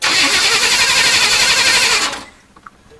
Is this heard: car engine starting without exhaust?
yes